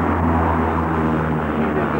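Propeller airplane engine drones steadily and loudly at close range as the plane readies for takeoff, a continuous low rumbling hum with no talk.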